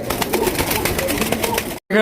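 Soft pigeon coos blend into a dense, steady background of bird noise at a pigeon market, with a brief silent gap near the end before the sound resumes.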